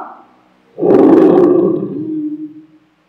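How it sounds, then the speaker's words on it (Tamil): A lion roars once, a deep rough surge that rises sharply, holds loud and close for over a second, then trails off into lower groaning breaths. "சிங்கம் முழங்கும், சிங்கம் முழங்கும். அதனுடைய சத்தத்தை கேட்கலாம்."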